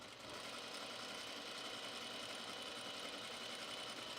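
A sewing machine stitches a T-shirt being made into a ruffle top, a steady close mechanical whir with a fine rapid rattle, running continuously and alone.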